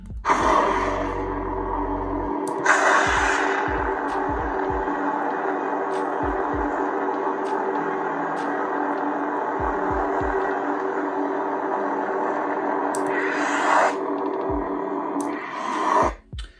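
A steady electric lightsaber hum drones throughout, broken by a few sweeping swing whooshes that flare up and fall away, with faint clicks scattered underneath.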